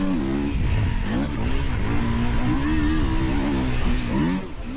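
A loud Kawasaki KX450 four-stroke dirt bike engine revs and drones steadily with rising and falling pitch, close and continuous, racing hard around a motocross track.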